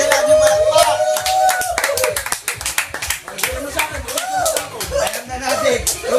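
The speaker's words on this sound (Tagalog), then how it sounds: "Bigyan natin palakpak." Audience claps for a contestant at a Filipino head-to-head event, with steady hand claps and slaps mixed with loud talking and laughter throughout.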